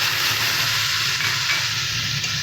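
Mustard paste hits a hot pan while a milk-based shukto simmers, giving a loud, steady sizzle and frying hiss that holds without a break and has no voices over it.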